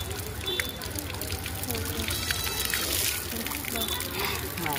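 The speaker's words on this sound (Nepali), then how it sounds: "झर्ना खोला यस्तो छ हेर्नु होला" A stream and small waterfall at the Shram Sanskriti Park pour and trickle in a constant, close rush of water, with a child and other people talking faintly over it.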